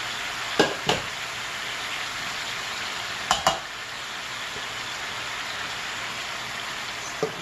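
Cabbage and carrots fry in a pan for seafood fried rice, with a steady close sizzle and a few sharp clanks of a utensil against the pan in pairs.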